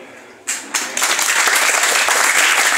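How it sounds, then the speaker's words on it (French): Church congregation at Nouvelle Jérusalem church breaking into applause, starting with a couple of isolated claps then swelling into loud, dense, sustained clapping. "Nous applaudissons"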